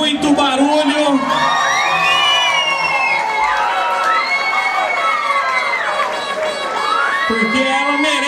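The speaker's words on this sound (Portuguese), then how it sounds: "Muitas palmas, muito barulho" A festive crowd at a fifteenth-birthday debutante party cheers and whoops loudly throughout, with excited children's shouts and voices rising and falling over continuous clapping.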